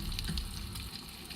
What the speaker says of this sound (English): we're just frying up the last batch of the goat cheese